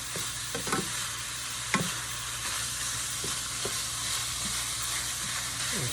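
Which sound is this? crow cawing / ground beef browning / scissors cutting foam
ground beef browning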